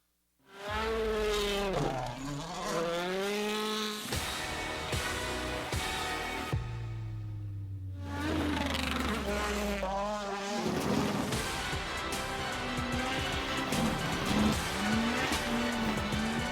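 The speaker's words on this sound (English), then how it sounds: "Next trailer, I think this is a racing game. WRC 10." Rally cars in the WRC 10 racing video game trailer, with loud engines revving and rising in pitch through gear changes, punctuated by tire squeals and skidding, plus a brief low rumble in the middle.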